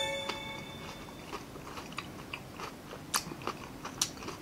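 Close, crunchy bites and chewing on Filipino street food, a few crisp crackling bursts spread over a few seconds with faint background noise and no talk.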